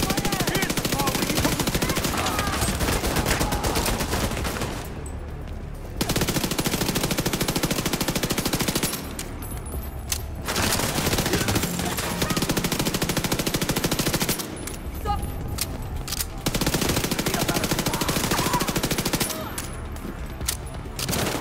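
Sustained turret machine-gun fire in The Division 2 video game, loud dense bursts lasting several seconds each, broken by short gaps, with faint game voices underneath.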